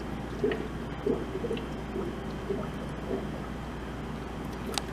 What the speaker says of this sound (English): We pour our ice cream mix in.